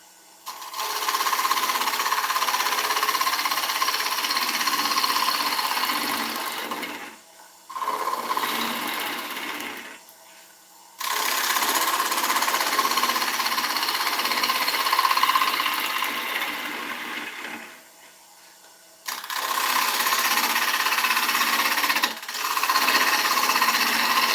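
A woodturning lathe cuts a soft willow tenon, giving a sustained hissing, buzzing scrape in long passes broken by brief gaps where the tool lifts off.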